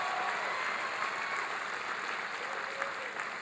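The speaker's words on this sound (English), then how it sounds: "Give Barbara a big round of applause." Sustained applause from a large audience fills a town hall, a dense even clatter of many hands clapping at once.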